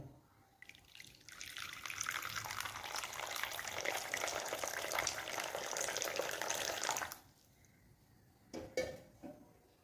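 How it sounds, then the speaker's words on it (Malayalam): Boiled water poured from a pan into a bowl while making a home hair remedy: a continuous, close splashing stream for about six seconds, then it stops and a few light clinks of utensils follow. "നമ്മൾ തിളപ്പിച്ചെടുത്ത വെള്ളം ഇതുപോലെ ഒരു ബൗളിലേക്ക് ഒഴിച്ചു കൊടുക്കാം"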